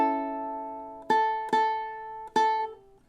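Ukulele playing the opening two measures of a song: a held ringing chord followed by four crisp strums in an even rhythm, close-up and solo.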